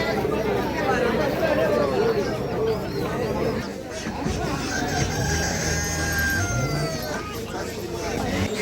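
At a traditional rural market selling ducks, chickens and pigeons, a crowd chatters steadily, with hens clucking and calling amid the busy murmur.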